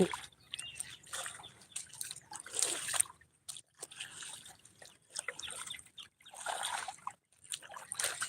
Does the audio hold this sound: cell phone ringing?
no